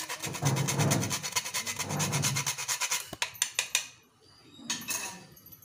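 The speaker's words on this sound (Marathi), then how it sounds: "ह्याच्यात मी थोडंसं जायफळ किसते" Nutmeg is grated over a pot of horse gram porridge. Quick, rhythmic rasping strokes run for a few seconds, followed by a few sharp scrapes and clinks, then quiet.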